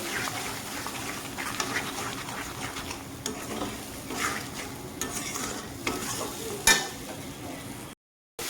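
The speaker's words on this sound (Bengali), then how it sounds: "হলুদের গুঁড়া তো ভালোভাবে মশলাটাকে কষিয়ে নেব" A spice masala with cumin, coriander, salt and turmeric is stir-fried in a pan. A continuous low sizzle runs under repeated scraping stirs with occasional louder knocks, followed by a brief silence at the end.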